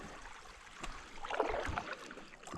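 A canoe is paddled across a lake in the Kahshe Barrens. A soft, nearby swirl and splash of a paddle stroke swells briefly mid-clip over quiet outdoor ambience.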